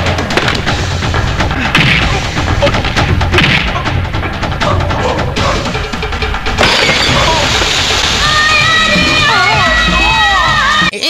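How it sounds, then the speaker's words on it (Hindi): A plastic bottle shatters with a glass-breaking sound effect in a comedic action scene. Loud crashes and booms sit among busy music and crowd noise, followed by a bright scatter of debris-like tinkles near the end. "ये बोतल तो प्लास्टिक की थी ना, तो कांच फूटने का साउंड इफेक्ट कहाँ से आ रहा है?"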